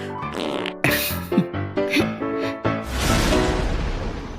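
A comic fart sound effect sputters out as a string of short, wet, blurting bursts, then trails into a longer loud rasp, prominent and close.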